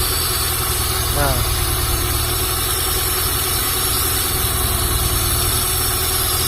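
A Honda Civic Genio engine with fuel injector number 2 unplugged idles close up. The hum is steady and continuous, and the idle stays even the whole time.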